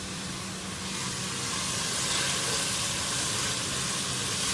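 Pork browning in a pot for chopsuey gives a steady, close sizzle, with dense frying hiss and spatter that runs evenly throughout and grows a little louder.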